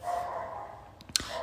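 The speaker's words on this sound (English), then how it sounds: "I'm sorry about the dogs" Dogs bark briefly in the distance, with one sharp bark standing out above a steady background hum and no voices.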